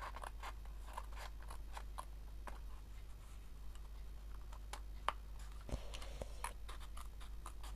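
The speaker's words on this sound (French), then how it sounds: "Donc on coupe bien au niveau des plis." Scissors cut paper along its folds in a steady run of crisp, close snips, each a short sharp click, over a low constant hum in a quiet room.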